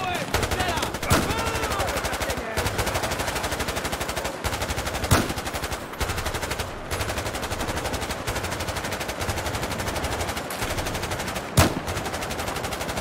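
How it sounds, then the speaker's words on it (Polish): Continuous rapid automatic gunfire in Battlefield 4, a dense rattling burst of shots that runs almost the whole time, broken by a few sharper, louder single cracks. "Strzelajcie. Na oślep."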